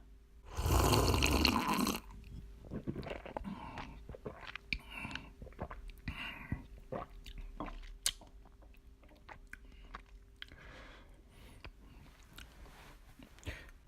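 A loud burst of pouring or stirring at the start, then soft slurping sips and swallows of a milk latte made with Jeju morning milk, close and intimate, with quiet mouth sounds following.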